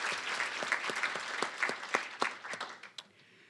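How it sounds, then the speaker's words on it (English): Audience applause at a women's award event, with sharp individual claps standing out from a thinning crowd and tapering off into quiet near the end. "Why don't we give him a round of applause for the refreshments."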